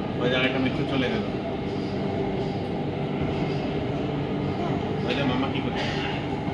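A metro train on the way to Marine Drive gives a steady loud rumble and rolling hum with brief higher whines, under people talking nearby.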